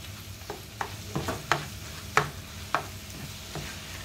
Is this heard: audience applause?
no